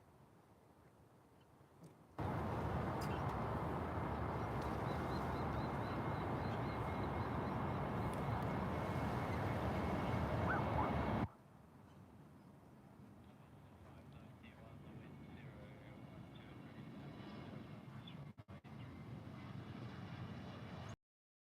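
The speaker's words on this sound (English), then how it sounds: "They're on their takeoff roll. Let's see the Qantas 737 performance." A Qantas Boeing 737 takes off at Sydney with a loud, sustained engine roar that swells suddenly and holds for about nine seconds, then drops to a fainter, distant jet rumble as the aircraft climbs away.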